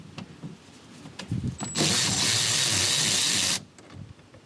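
A ratchet works the side bolt on the 12V battery terminal of a 2014 Toyota Prius: a few sharp clicks, then a loud, sustained rasping burst of about two seconds, then quieter clicks.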